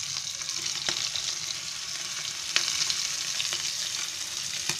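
Whole mackerel fries in a pan over low gas heat, a steady soft sizzle running throughout with a few faint clicks and scrapes as the fish is turned. No one talks.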